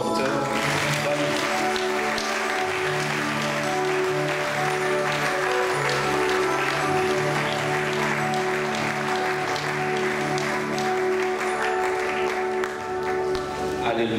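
Steady audience applause with crowd noise welcomes a speaker at a French-language church service, continuous clapping under music-like tones and some voices throughout.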